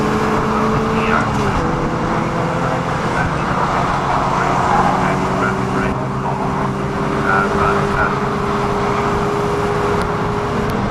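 Caterham race cars at Brands Hatch keep up a constant loud engine drone with shifting pitch, while a commentator talks over the noise throughout.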